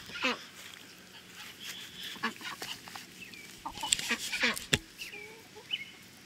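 Chickens and ducks on a Missouri farm cluck and call in a busy, uneven chorus of short bursts. A few louder squawks come near the end.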